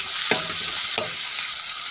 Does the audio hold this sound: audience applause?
no